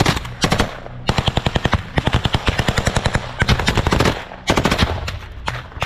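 Automatic gunfire crackles in rapid bursts during combat between Russian and Ukrainian positions, loud and close, with sharp repeated reports broken by brief pauses and no speech.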